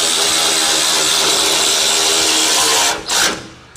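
A power tool spins a socket onto a nut on a GWM Tank 300 tow bar, a loud continuous whirring drone close by that cuts out near the end with a short final burst.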